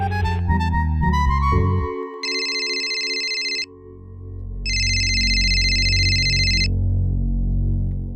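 An electronic telephone ringing tone sounds in two long, steady bursts separated by a pause, over a low background hum.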